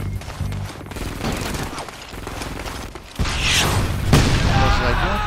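Turret gunfire in the video game Frontlines: Fuel of War, a busy stream of rapid shots and booms that gets louder and denser partway through, with game mechanical clatter mixed in.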